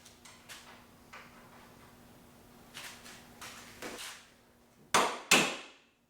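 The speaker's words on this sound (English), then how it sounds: "I'm going to hit it with a hammer that's made out of lead so that I don't damage the threads or the nut." A lead hammer knocks on a nut at a Corvette Z06 suspension knuckle, several light taps followed by two sharp loud metallic strikes near the end.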